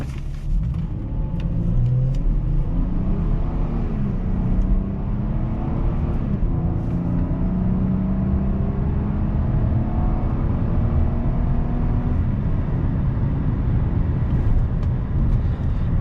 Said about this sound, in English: All right, we're flooring it.